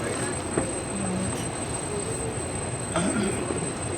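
A very long freight train rolls past nearby on the line between Vancouver and Kamloops, giving a loud steady rumble with rail clatter and occasional squealing wheels.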